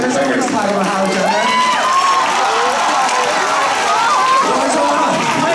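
A school hall audience at a student variety show cheers and claps with loud crowd chatter and excited shouting, a dense continuous noise throughout.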